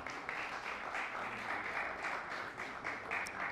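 An audience at a stage talent show claps in a steady, even wash of applause, soft and distant throughout, with no voices standing out.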